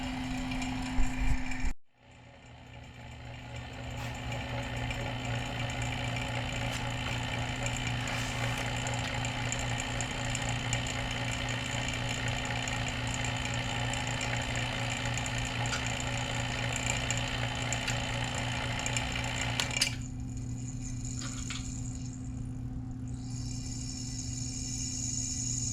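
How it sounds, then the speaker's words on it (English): A vacuum pump evacuates the A/C system of a Honda EH3 hatchback, droning steadily and mechanically for over twenty seconds with a constant low hum, starting after a brief click and gap. "I'm gonna get this vacuum done."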